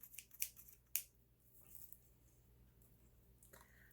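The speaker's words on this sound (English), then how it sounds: "they're not the greatest scissor I've ever had, but they're pretty good" Inexpensive store-bought scissors give a few quick, crisp snips and clicks as they are handled up close, with quiet pauses between the cuts.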